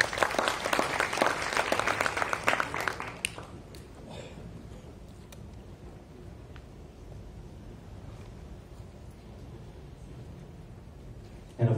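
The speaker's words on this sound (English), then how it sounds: "How about a huge round of applause to welcome Mr." Conference audience at a technology symposium gives a round of applause welcoming a speaker on stage, loud dense clapping for about three seconds that then cuts out, leaving quiet room tone.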